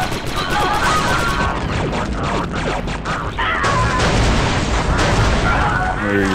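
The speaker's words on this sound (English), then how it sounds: "Now lob the grenade on that gun position." Heavy booming grenade blasts and crashing gunfire erupt in a Star Wars Republic Commando combat scene, loud and dense throughout the clip, with a player's voice briefly audible over the noise.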